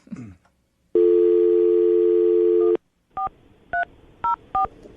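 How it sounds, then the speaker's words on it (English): A telephone number is dialed with DTMF tones: a steady dial tone plays for a couple of seconds, then stops, followed by four short, distinct keypad beeps in quick succession, loud and close. "I'm going to dial the number right now, see if we can get her on the phone"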